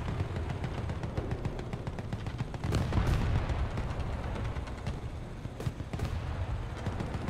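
Tank gunfire in War Thunder on the Karelia map, a German 7.0 tank battle, with sharp cannon blasts around the middle and again near the end over a steady rumbling battlefield din.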